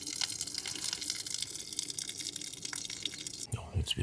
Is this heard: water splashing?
yes